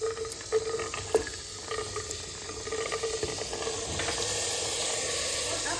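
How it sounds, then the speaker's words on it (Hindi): Drained kidney beans go into hot cooked masala in a pot for rajma, giving a steady hissing sizzle with scattered clinks and scrapes early on, close and moderately loud, with no talk. "राजमा को इसके अंदर डाल देंगे"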